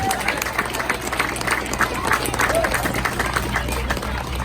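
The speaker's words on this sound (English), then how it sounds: "Let's give her a round of applause." Audience at a livestock showmanship contest giving a round of applause, a continuous patter of clapping with crowd murmur beneath, moderately loud and steady throughout.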